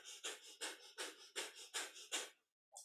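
Breath of fire from kundalini yoga: quick, forceful panting breaths through the nose, about eight even pulses in a steady rhythm, close and clear. A short pause follows before another breath starts.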